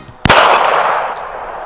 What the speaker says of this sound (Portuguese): Mas o velho Potiguar foi mais rápido e atirou no rapaz.